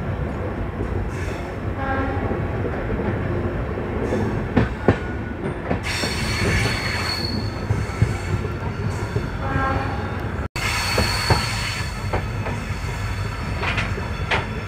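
A WDP4D diesel locomotive hauls an Indian Railways Jodhpur intercity along curving track near Luni, with a steady close rumble, rhythmic wheel clatter and occasional sharp knocks and squeals.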